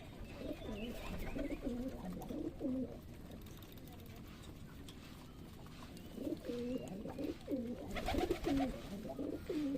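Pigeons at a Bangladeshi pigeon farm coo while eating corn, the throaty rolling calls coming in close repeated bursts at the start and again near the end over a low background murmur.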